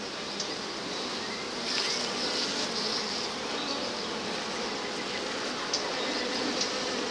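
Honeybees buzz in an opened hive during an inspection, a dense continuous hum close by with individual bees droning past now and then, and no talk over it.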